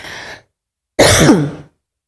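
Two close, loud coughs, a short one followed by a longer, harsher one, with silence in between.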